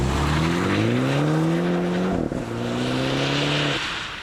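A 2019 Mini Cooper S with a turbocharged four-cylinder and automatic transmission driving front wheels, its steady engine drone rising and falling smoothly with road noise throughout, close and continuous with no talk.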